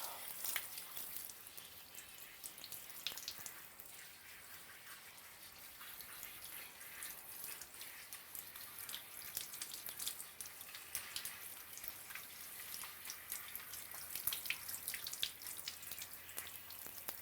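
A hair system being rinsed under a running tap: a faint, steady hiss of flowing water with light splashing continues throughout at low level.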